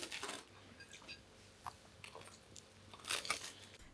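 Someone bites into warm, fresh, crunchy bread up close, with a sharp crunch at the start, then quieter crackling chews and another crisp bite near the end, with no talking.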